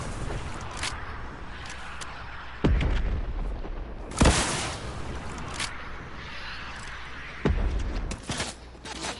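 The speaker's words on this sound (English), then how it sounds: "Rocket launchers all day long." Rocket launcher blasts in a video game: three sharp, booming explosions spaced a few seconds apart, each a loud burst rising above a steady noisy game background.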